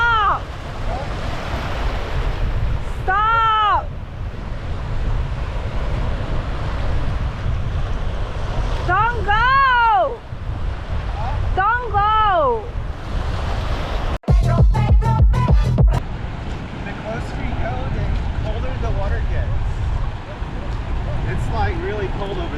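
Ocean waves roll in at Spanish Banks beach in Vancouver as a steady wash of surf under wind noise on the microphone, with people talking and a brief clatter of handling noise partway through.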